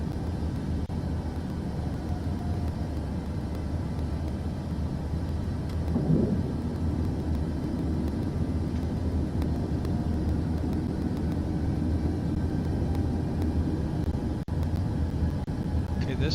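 Engine drone from an airplane in Microsoft Flight Simulator 2024 runs as a steady low rumble while the flaps extend, with a brief swell partway through and no other sounds standing out.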